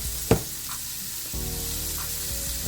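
A well-done steak sizzles steadily in a hot pan, with a sharp knock near the start and the frying growing a little louder and fuller partway through.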